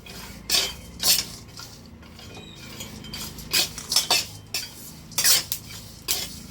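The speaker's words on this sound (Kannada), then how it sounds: "ಸೊ ಇದೆಲ್ಲ ಒಟ್ಟಿಗೆ ನಾನು ಫ್ರೈ ಮಾಡ್ಕೊಳ್ತಾ ಇದ್ದೀನಿ." Sunflower and melon seeds are dry-roasted in a pan for moringa protein laddoos, with repeated metal spatula scrapes and clinks against the pan over a faint low rustle, close by and with no talking.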